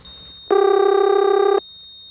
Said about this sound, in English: there's a 3700 hertz tone on the trunk